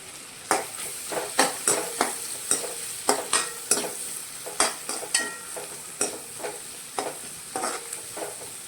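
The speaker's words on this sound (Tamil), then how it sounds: "வதக்கும் போது கொஞ்சம் கருவேப்பிலை போட்டுடலாம்" Close-up stirring of curry leaves sautéing in a hot pan for mutton curry, with a steady sizzle and repeated scraping strokes of a spoon roughly every half second.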